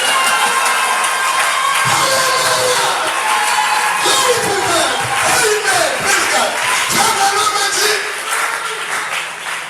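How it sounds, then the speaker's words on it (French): A church congregation loudly cheering and acclaiming the Lord, a dense sustained roar of shouts, whoops and clapping from a large crowd filling the room for the whole stretch, with voices calling out within it. "On acclame très fort le Seigneur."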